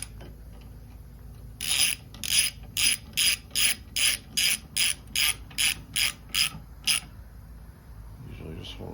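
A screw being turned into a brake backing plate on a Silverado, giving about a dozen short, evenly spaced ratcheting clicks in a steady rhythm, close and fairly loud against a quiet background.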